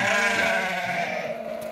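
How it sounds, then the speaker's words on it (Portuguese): Sheep for sale on a farm in Dois Riachos, Alagoas, bleat in one long wavering call, close and loud, with no talk over it. "As ovelhas muito boas."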